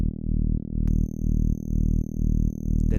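A buzzy saw-wave synth, thickened by asymmetrical distortion and roughened by downsampling, holds a steady, gritty tone that pulses in regular swells, with a thin high whine entering midway.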